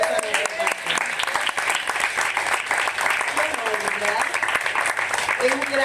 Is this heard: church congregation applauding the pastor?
yes